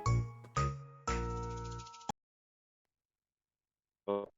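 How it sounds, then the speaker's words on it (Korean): Electronic phone ringback tone heard while placing a call to a relative, three long ringing tones back to back, then a pause of silence and a short burst as the line starts to connect. "네, 전화를 걸어볼게요"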